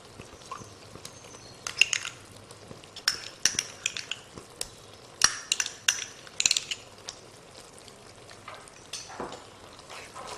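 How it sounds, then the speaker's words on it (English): A spoon stirs tomato puree through a chicken jalfrezi sauce in a metal pan, giving irregular scraping clinks and taps against the pan over a soft background hiss. "as the tomato puree is stirred through the sauce"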